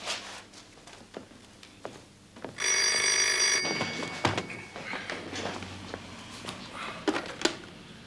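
A telephone bell rings in one loud burst lasting about a second, surrounded by footsteps, clicks and shuffling in a room.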